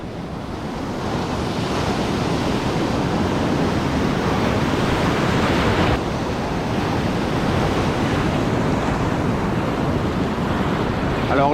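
Surf breaks continuously on a beach at the shore, a loud, broad roar of waves with wind buffeting the microphone throughout, and no one speaking.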